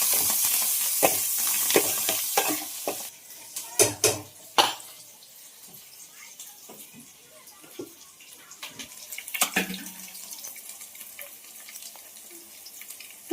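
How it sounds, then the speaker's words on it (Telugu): Curry leaves stirred into a pan with onions and green chillies for a dried-fish and cucumber curry, a soft sizzle under sharp scraping and clattering of a spoon against the pot, busier at first, then quieter. "కరివేపాకు కూడా వేసేసుకొని కలిపేసుకోవాలి"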